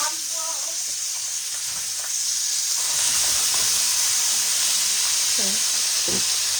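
Beef steak sizzling loudly in a hot pan just after being flipped, a steady bright hiss that swells midway and keeps going, with brief voices and utensil sounds underneath.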